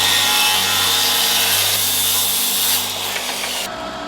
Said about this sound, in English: Just cut off the excess wood it was getting stuck on.